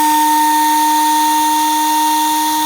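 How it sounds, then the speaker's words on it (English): A power planer runs steadily on a black walnut slab filled with resin, taking very light passes; a loud, continuous high whine with strong steady tones fills the whole stretch, with no talking. "And then with the planer, starting with some very light passes"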